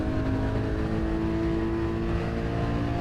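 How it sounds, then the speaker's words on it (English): Porsche Cayman GT4 engine revving steadily on the Imola circuit, a loud continuous mechanical drone with layered harmonics, close and unbroken for the whole stretch. "immediately this engine sounds sensational"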